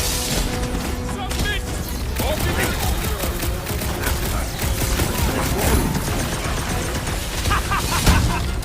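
Dense gunfire and booming explosions from a Guardians of the Galaxy action game rattle continuously and loudly, with shouted character voices mixed over the chaotic battle.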